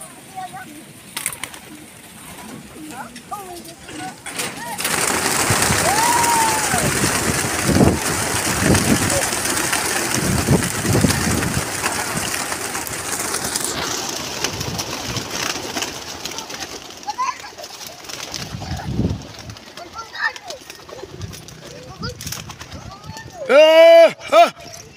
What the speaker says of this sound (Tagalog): Pinakawala na ibon nyo